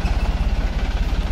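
A reaper harvesting machine's engine runs with a steady, low, pulsing throb, loud and close throughout, with no talking.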